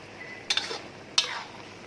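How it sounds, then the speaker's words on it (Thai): Pork simmering in a pot for sweet-salty Thai braised pork, a soft steady bubbling hiss with two sharp utensil clinks against the pot as it is stirred, close and quiet. "เคี่ยวหมูแล้วก็คนหมูไปแบบนี้"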